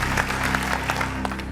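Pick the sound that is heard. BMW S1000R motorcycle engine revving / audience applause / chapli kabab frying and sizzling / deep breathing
audience applause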